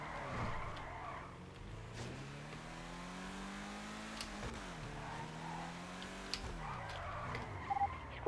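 A car in GTA V accelerating and drifting, its engine revving up and down in sweeping pitch with brief tire skids near the end, fairly faint and without speech.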